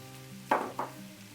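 Sliced mushrooms drop into hot oil with rosemary and peppers, letting out two close, loud bursts of sizzling that quickly settle into a low frying hiss.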